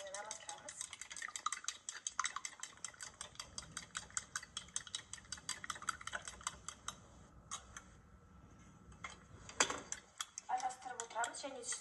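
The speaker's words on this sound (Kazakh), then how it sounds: "Шанышқының көмегімен немесе венчиктің көмегімен араластырамыз." Two eggs are whisked in a bowl with a fork or whisk, a rapid, steady run of light clicking taps against the bowl that stays close and fairly quiet, with a brief pause near the end.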